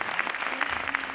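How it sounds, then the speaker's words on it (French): Dense, steady audience applause filling a hall at a film premiere screening in Orléans, many hands clapping together at an even level with no gaps. "ça s'applaudit"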